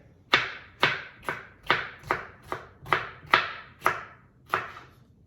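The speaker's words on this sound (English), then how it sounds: "I'm just going to cut these into strips without cutting my finger" A very sharp knife slicing a pepper into strips on a cutting board, about nine evenly spaced crisp chops each ending in a thud, close and clear with no talk.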